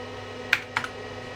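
Two quick clacking keystrokes on a Wyse 286 IBM-compatible PC keyboard, close and crisp, over a low steady computer hum.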